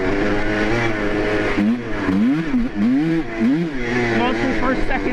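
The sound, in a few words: cheap 2-stroke ATV engine while shifting gears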